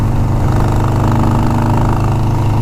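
A 29-year-old motorcycle's engine idles loud and close, a steady unbroken mechanical drone with no voices over it.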